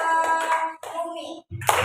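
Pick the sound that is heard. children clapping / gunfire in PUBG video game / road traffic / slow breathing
children clapping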